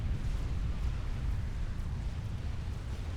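Explosions in a Supreme Commander battle merge into a steady heavy rumble, a thick low roar holding at an even, loud level for several seconds with no clear separate blasts and no talking.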